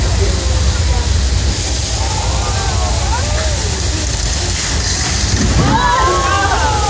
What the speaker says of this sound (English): Get too much rain, folks, you get a flash flood, and we use that same effect in the movie Big Fat Liar.